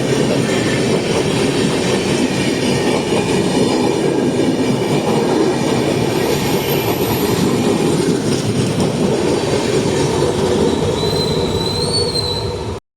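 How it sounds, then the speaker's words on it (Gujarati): An Indian Railways double-decker train rolls past close by with a loud continuous rumble and clatter of wagons, and wheel squeal rises near the end before it cuts off abruptly. "અને સામે જે ટ્રેન આવે છે એ કઈ છે, ડબલ ડેકર લાગે છે મને તો"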